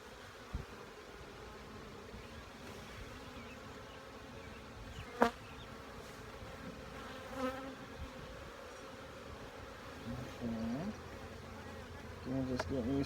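Honey bees buzz around an open beehive during a hive check, a dense, steady drone close by with a few brief sharper clicks and knocks of tools on the box.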